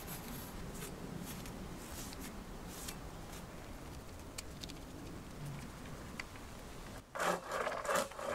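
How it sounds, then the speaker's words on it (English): Faint, steady rasp of a waxed hand saw working through a wooden pole in a forest, continuous strokes at a distance, then a louder clatter of wood near the end. "The saw almost got stuck once, so I put some wax on the blade for smooth cutting."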